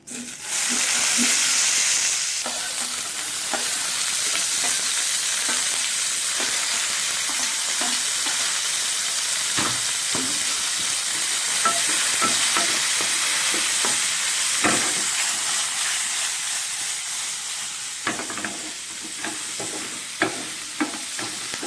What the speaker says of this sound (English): To this ghee, add some finely chopped onions.